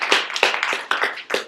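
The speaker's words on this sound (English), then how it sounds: "So let's give Jamie some applause." Applause for Jamie at a tribute speech, a small group clapping close by in quick uneven bursts for a brief moment, alone without talk.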